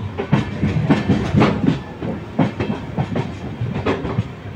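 An LHB-coached Howrah Balurghat Express runs between Malda Town and Balurghat, its wheels giving a steady, loud clickety-clack with repeated rhythmic beats over a continuous rumble, with no voices.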